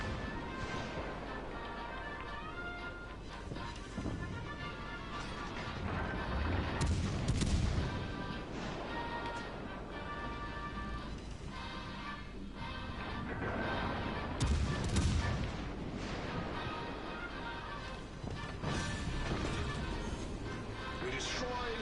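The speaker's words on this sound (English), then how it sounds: "it's just the Emerald's guns" Naval guns of the cruiser Emerald in a naval battle game fire heavy, booming salvos at intervals, with big blasts about every seven seconds over a dense wash of game music and effects while a person talks.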